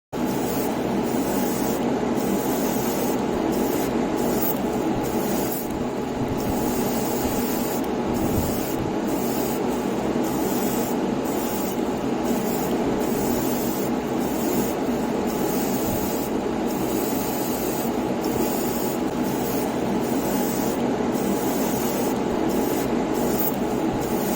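An airbrush sprays paint onto masked window trims of a model, a steady close hiss running the whole time with faint rhythmic flutters.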